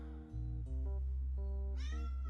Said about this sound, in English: She's like meowing like crazy down here